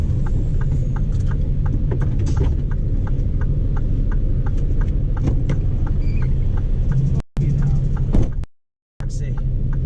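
A vehicle moves through UK town traffic with a steady low engine rumble. A regular, quick ticking runs over it, and the sound cuts out briefly near the end.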